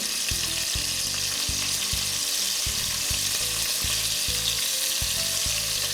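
Cutlets frying in a mix of ghee and oil, a loud, dense, continuous sizzle with steady crackling and a rhythmic low thumping beneath it throughout.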